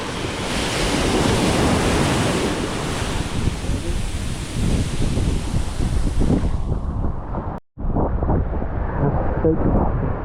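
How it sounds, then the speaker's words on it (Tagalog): Loud, roaring wind buffeting the microphone over crashing sea surf aboard a small fishing boat, continuous and close, easing briefly near the end before gusting again. "Lakas ng hangin"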